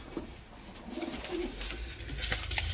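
Breeder hens packed in baskets before vaccination coo and murmur softly, faint pigeon-like calls scattered over a low rustling background with no talk.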